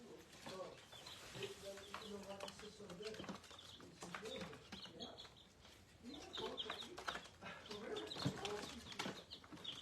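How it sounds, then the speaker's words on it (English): Soft chirps and cheeps from baby chicks pipe repeatedly in a quiet, busy chorus, close and faint, with a person talking in the background. "Little baby chickens."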